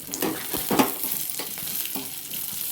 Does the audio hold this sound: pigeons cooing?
no